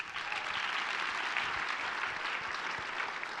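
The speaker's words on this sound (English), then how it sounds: "let's give a round of applause for Hunter." Steady, dense audience applause for a guest at a Recovery Reinvented 2022 live podcast event, a continuous wash of many hands clapping at even loudness throughout with no talk over it.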